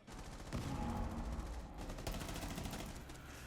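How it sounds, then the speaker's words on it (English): Dense, rapid gunfire rattles through a competitive Rainbow Six Siege-style video game match, with overlapping bursts and shots ringing out continuously at moderate loudness and no talk over it. "Lots of shots ringing out."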